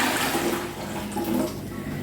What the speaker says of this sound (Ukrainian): тепер беру ось цю кастрюлю, у якій ми будемо з вами варити його, сік кип'ятити, виливаю сюди